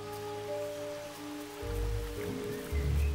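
Steady rain patters on surfaces nearby in the Carpathian Mountains, with deep low rumbles swelling in and out beneath the continuous wash of drops.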